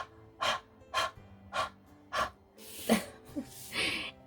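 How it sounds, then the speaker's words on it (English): Close, audible huffs of breath blown onto a rubber stamp during card making, four evenly spaced puffs followed by a few quicker, rougher breaths and rustles, with no talking. "So I'm just going to lightly breathe on it."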